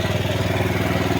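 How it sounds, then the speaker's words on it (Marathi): Engine driving an irrigation water pump during a power cut, a loud, steady, close mechanical chugging with a fast regular pulse and no change in speed, heard alone. "आपल्याकडे लाईट नसल्यामुळं आपण इंजिन चालू केलं आहे बघा"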